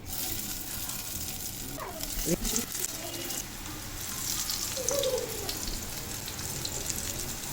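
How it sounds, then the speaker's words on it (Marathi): Coriander vadi (kothimbir vadi) frying in hot oil in a pan gives a steady, moderately loud sizzle and crackle that continues throughout, with a few brief handling knocks partway through. "दोन्ही साईडनं आपण आता वडी तळून घेतलेली आहे"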